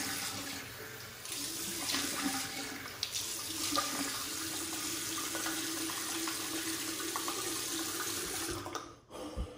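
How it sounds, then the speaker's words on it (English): Water runs steadily from a bathroom tap while a face is rinsed after a wet shave, a close, continuous splashing stream that stops abruptly near the end. "Let's rinse the face and we'll get into the post."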